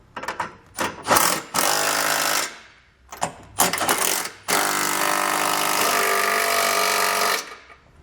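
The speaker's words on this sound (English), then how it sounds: "we can use a 3/4 inch socket to snug it all down" A power tool fitted with a 3/4 inch socket runs down the flange nuts on a Curt trailer hitch on a 2020 Subaru Forester. Several short bursts come first, then one long steady run, loud and close, with no talking.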